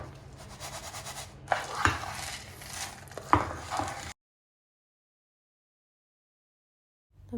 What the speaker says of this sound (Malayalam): ഇതെല്ലാം കൂടി ലോ ഫ്ലെയിമിൽ നല്ലോണം മിക്സ് ചെയ്ത് റോസ്റ്റ് ചെയ്ത്